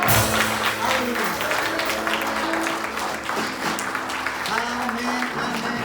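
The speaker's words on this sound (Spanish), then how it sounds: "Dale ahora sí ese aplauso fuerte" Loud, steady applause from a church congregation fills the space, mixed with cheering voices and a sustained musical tone underneath.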